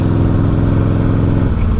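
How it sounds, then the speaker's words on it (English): A 1996 Harley-Davidson Softail with an Evo engine roars close and loud in a steady, throbbing rev, its deep loping pulse holding strong across the short stretch with no voices. "Evo rev bombs. Dropping from the sky."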